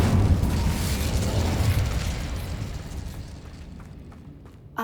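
An Incendio fire spell cast in Hogwarts Legacy roars as a loud, broad whooshing burst of flame that gradually fades over several seconds, with no talk.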